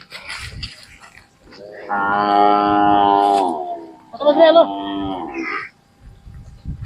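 A Khillar bull of the original Kajali line at a cattle fair gives two long, loud bellowing calls in succession, standing close by with faint background noise between them.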